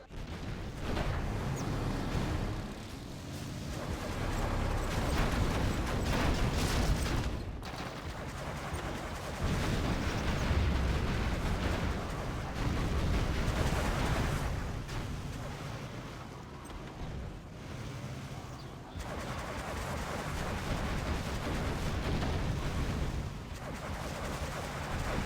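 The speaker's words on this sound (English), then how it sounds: "I like the explosion on the explosive barrels" Dense, continuous roar of explosions and gunfire from a Command & Conquer Generals match between two GLA armies, heavy booms from blasted explosive barrels rolling one into another with no pauses.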